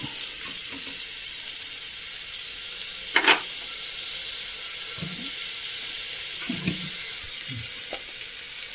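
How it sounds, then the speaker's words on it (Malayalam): Onion sautés in a pan with green chilli and curry leaves for a vegetable curry, giving a soft, steady hiss with occasional spoon clinks and stirring scrapes, with no voices. "ഒന്ന് വഴറ്റി കൊടുക്കാം വല്ലാണ്ട് ഇങ്ങനെ ബ്രൗൺ കളർ ആവണ്ട"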